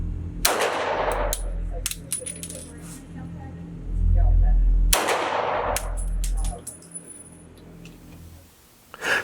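A CZ 75 B Omega Tactical pistol fires at an outdoor range: two sharp, loud shots several seconds apart, each followed by a short echo, with small metallic clinks and a low rumble between them.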